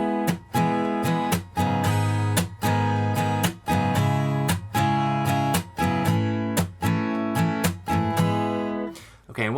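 Strummed guitar chords from a song played with a pick, a steady rhythmic pattern of bright, ringing strokes at moderate loudness, alone without any voice.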